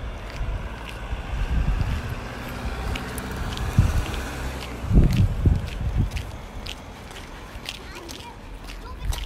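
Gusty wind blowing by the sea on a rainy, windy day near a beach, a low rumbling rush buffeting the microphone in surges, with footsteps and people talking at times.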